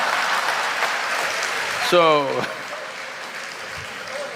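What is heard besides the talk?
audience applause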